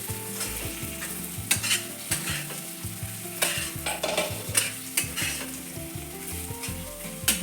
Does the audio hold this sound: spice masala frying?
yes